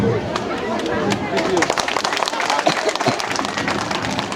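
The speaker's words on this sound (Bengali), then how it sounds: "আমরা করতালির মাধ্যমে তাদেরকে উৎসাহিত করি" Audience members at a student club ceremony clap at length, with sharp irregular hand claps running under someone speaking into a microphone and some crowd chatter.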